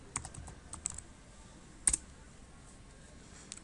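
Quiet, close keystrokes on a computer keyboard typing a short web address, a few scattered soft taps with one sharper click partway through.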